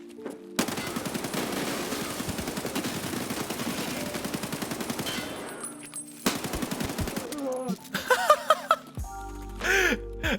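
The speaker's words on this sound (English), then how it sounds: "I just laid 60 rounds into 2 PMCs." Sustained bursts of automatic rifle fire in Escape From Tarkov, rapid and loud at close range, run for several seconds, pause, then resume in shorter bursts amid scattered impacts and game noises.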